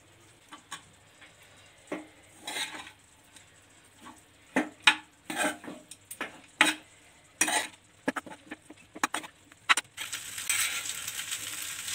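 Vermicelli upma stirred in a pan with capsicum nearby: a rhythmic run of close scraping and clinking strokes of a spoon against the pan, ending in a steady sizzling hiss.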